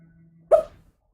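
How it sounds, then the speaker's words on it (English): A dog named Buster letting out a single short muffled bark or yelp in its sleep during a nightmare, close and brief against a quiet low hum. "That's my dog. He's having the I think he's having a nightmare."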